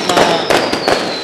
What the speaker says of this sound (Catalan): Anem a sentir els coets i continuem.